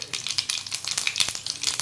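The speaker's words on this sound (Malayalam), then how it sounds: "കടുക് പൊട്ടിയിട്ടുണ്ട്." Mustard seeds crackle and pop in hot oil in a pan for bitter gourd kondattam, a quick scattered patter of small bursts without talk.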